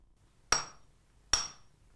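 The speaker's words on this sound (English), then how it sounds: "he hammers a plain iron rod down to a sharp point" Two sharp, ringing hammer blows about 0.8 seconds apart as a Japanese swordsmith hammers a plain iron rod to a point at a charcoal forge, each strike bright and metallic with a short decaying ring, no voices.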